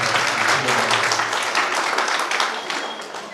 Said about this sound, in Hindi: तालियों से आप लोग स्वागत कीजिए